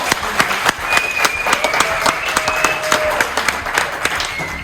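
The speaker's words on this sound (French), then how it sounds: "On peut les applaudir encore une fois." A lycée audience applauds after the announcement of results at a short-story competition: loud, dense clapping with sharp individual claps standing out and a few faint whistles or voices mixed in.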